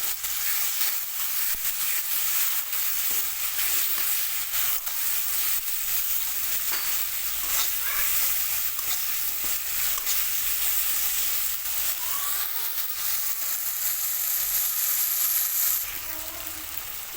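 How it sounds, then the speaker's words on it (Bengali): Ground spice paste sautéing with melted tomato and rock salt for a crab curry, a loud continuous hiss and sizzle with occasional light stirring, steady and close before easing off at the end. "বেটে রাখা মশলাটা দিয়ে দিচ্ছি মশলাটা ভালোভাবে কষিয়ে নেবো"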